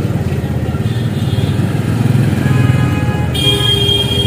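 Heavy road traffic near Devbag beach, motorcycle and car engines droning close by and continuously, with a brief horn toot toward the end.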